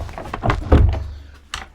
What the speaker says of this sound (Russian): Теперь снимаем двери.